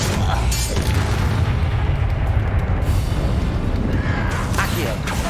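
Incendio fire spell erupting in a Harry Potter video game, a loud booming blast with heavy low rumble lasting several seconds, while a person talks over it.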